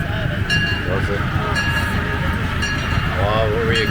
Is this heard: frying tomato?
no